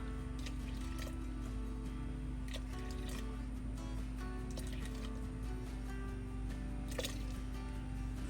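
Water poured steadily into a measuring cup while mixing pizza dough in an RV kitchen, a continuous close trickling and splashing with a low background hum.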